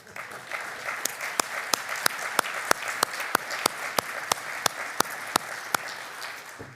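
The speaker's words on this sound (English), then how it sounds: "Wendell, come on up on stage, and we're going to all give you a round of applause" Applause at an award ceremony as an honoree comes up on stage, with a broad bed of crowd clapping and one loud, sharp clapper near the microphone cutting through at a steady, regular beat.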